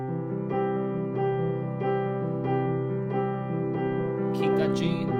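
Beginner piano practice of a left-hand reach exercise, single notes struck one after another at a steady slow pace, each ringing into the next, with a brief bright clatter near the end.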